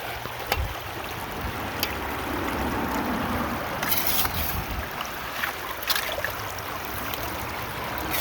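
Water drops and flows steadily through a gold prospecting sluice on a creek, a continuous trickling wash with occasional splashes and drips close by.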